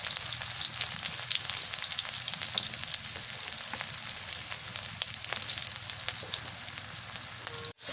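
Oil sizzles steadily in a pan heated for frying taro flowers, a dense continuous crackle with a few louder pops. A brief clatter sounds near the end, and no one speaks.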